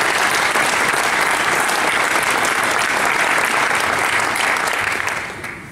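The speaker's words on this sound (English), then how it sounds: "Give him a round of applause, please." Loud, sustained applause from an audience at a hall of fame speech event, dense clapping filling the space evenly before tapering off at the end.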